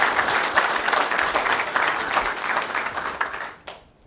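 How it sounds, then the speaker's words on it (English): A conference crowd at a tech event breaks into a dense round of applause, steady and full for several seconds before cutting off abruptly with one last clap. "So just a big round of applause to those people."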